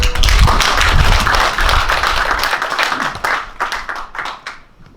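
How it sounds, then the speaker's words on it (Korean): An audience at a New Year gathering gives a big round of applause ahead of a special lecture; loud, close clapping with some thumps starts full, then breaks into sparser individual claps as it fades. "여러분 다시 한번 큰 박수 부탁드립니다"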